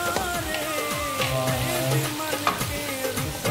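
Yogurt goes into a chicken karahi and sizzles loudly and steadily under repeated stirring scrapes, with a few sharp clinks of the utensil.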